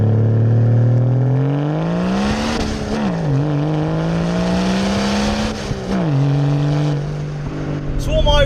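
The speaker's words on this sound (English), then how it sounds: "the noise coming out the back of it sounds like a petrol, but it goes like a diesel" A modified diesel BMW 330 E46 engine drones steadily with a deep, rumbling exhaust note that rises and falls with revs, loud and close, with speech mixed in.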